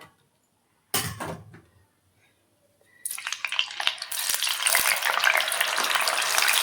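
Pieces dropped one at a time into hot oil in a pan start frying after a brief clatter, then a steady, dense sizzle builds and continues loudly to the end, with no talk.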